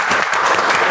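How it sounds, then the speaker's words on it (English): A brief burst of audience clapping at a Toastmasters meeting honoring a Toastmaster of the Month award recipient, dense and fairly loud, with no voices over it. "He is not here, but we can clap for him."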